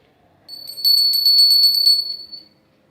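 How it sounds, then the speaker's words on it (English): A small hand bell rings rapidly and brightly up close for over a second, its tinkling strokes fading out at the end. "What is the sound of that bell?"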